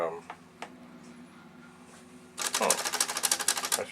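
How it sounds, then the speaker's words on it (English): Vintage Commodore typewriter mechanism: a few isolated clacks and a low mechanical hum, then a fast, loud burst of rapid key strikes and type-bar clatter at close range, with someone talking before it. "This is a Commodore typewriter."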